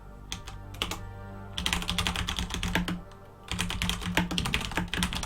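Fingers type on a computer keyboard in rapid bursts of clicky keystrokes, close and fairly loud, with a short pause between flurries and no speech.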